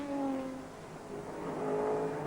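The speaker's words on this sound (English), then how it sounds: "the crowd on the hill will hear this mob coming" Sports sedan race cars roar steadily climbing the hill at Bathurst in 1992, a loud continuous drone with rising and shifting pitch as the pack approaches, no voices.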